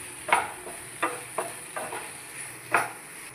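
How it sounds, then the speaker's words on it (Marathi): Pasta stirred with pasta sauce in a pan, several soft scraping strokes at an uneven pace over a faint steady sizzle, heard up close and quiet. "पास्ता सॉस ॲड केल्याच्या नंतर आपल्याला हलवून घ्यायचं आहे"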